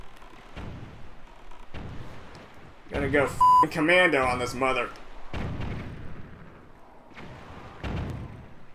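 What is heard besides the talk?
cannon firing in The Legend of Zelda: The Wind Waker video game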